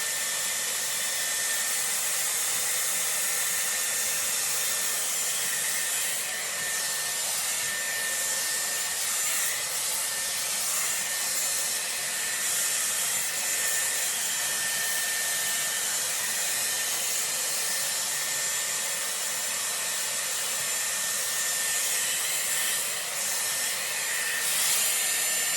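Dyson Airwrap blow-drying hair with a round brush on medium heat, a steady loud airy hiss that runs unbroken, with faint brushing and rubbing through the hair.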